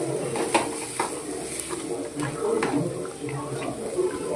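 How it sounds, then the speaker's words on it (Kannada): Ingredients stirred and fried in a pan, with a steady sizzle and scraping strokes of a spoon against the pan through the whole stretch, close and moderately loud. "ಚೆನ್ನಾಗಿ ಹುರ್ಕೋಬೇಕು."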